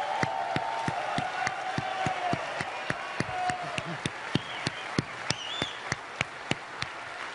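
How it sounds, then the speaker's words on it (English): Live audience at a technology demonstration clapping for stunt bikers, a sparse, rhythmic clapping that grows more distinct and evenly spaced toward the end, mixed with crowd murmur and background voices. "A big round of applause for our bikers."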